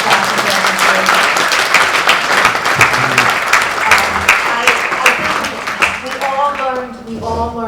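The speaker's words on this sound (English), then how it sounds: "Can we have another round of applause, please, for Dr. Davis?" Round of applause for Dr. Davis at a Democratic Club evening program, dense steady clapping from an indoor audience, with voices talking over it and the clapping tapering off near the end.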